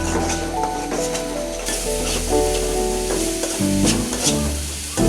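Spice paste frying and being stirred in a pan for hilsa curry, with a loud continuous sizzle, a scraping stir and some background hum and tonal noise, and no talking.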